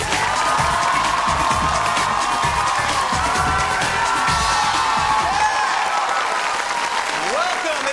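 A game show studio audience breaks into loud sustained applause with cheers and whoops, dense clapping throughout and voices shouting over it.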